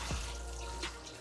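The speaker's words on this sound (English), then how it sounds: "let me just add water let the chicken use this to cook." Water is poured into a cooking pot of chicken for sweet jollof rice, a soft, faint, continuous splashing hiss over a low background hum.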